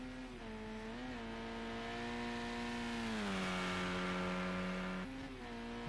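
A touring race car engine in a sim race at Bannochbrae holds high, steady revs through corners with a slight dip and recovery near a jump, a continuous sustained drone with no talk.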